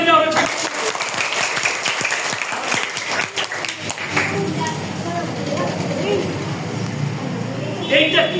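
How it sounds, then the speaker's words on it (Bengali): Classroom clapping from a sixth-grade science class, a burst of many small hands near and loud, dense at first and thinning into scattered claps and murmuring children's voices. "একটা করতালি দাও।"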